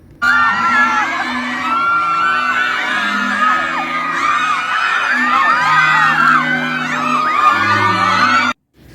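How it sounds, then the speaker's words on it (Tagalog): Fans scream, whoop and cheer at a film premiere night: a dense, loud crowd roar of high-pitched shrieks and yells that carries on steadily for most of the clip, then cuts off abruptly near the end. "Grabe ang hiyawan ng kanilang mga fans nang makita sila ng malapitan."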